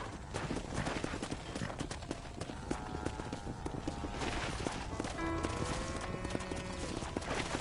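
Horse hooves clip-clopping steadily at a run in the Red Dead Redemption video game, with a whinny breaking through near the end over a busy game soundscape.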